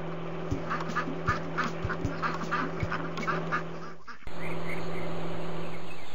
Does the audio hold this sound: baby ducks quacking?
yes